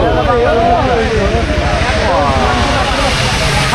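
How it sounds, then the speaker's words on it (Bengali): A small airplane flies over Uttara in Dhaka before landing, a low droning engine rumble heard under loud, close talking from several people. "এটা অনেক ছোট বিমান ভাই দেখতে পাচ্ছি না"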